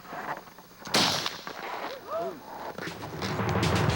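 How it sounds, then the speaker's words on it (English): A warning shot from a shotgun fired close to a bear in the Arctic, one sharp loud blast followed by rumbling echo, with voices talking briefly afterward. "He has time for one more warning shot."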